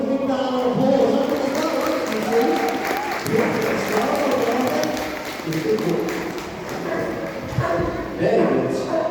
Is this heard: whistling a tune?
no